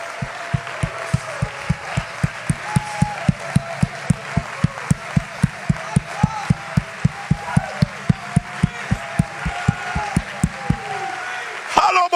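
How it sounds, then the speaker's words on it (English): A church congregation claps hands in a steady, rhythmic beat during worship, the sharp claps evenly spaced and loud over singing and a preacher's voice, stopping near the end. "Oh, clap your hands to the Lord."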